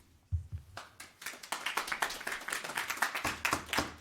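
Applause breaks out in a town council meeting audience: a brisk run of hand claps that begins sparse and quickly thickens into steady, moderately loud clapping.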